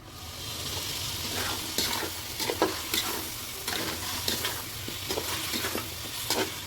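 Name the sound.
chicken meat frying in oil for biryani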